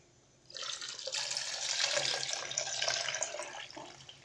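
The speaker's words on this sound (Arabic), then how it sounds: "غادي نضيف لهم نصف لتر د الحليب بارد." Cold milk, half a litre, poured into a blender for a flan juice drink, a steady close liquid splash that starts abruptly and runs evenly to the end.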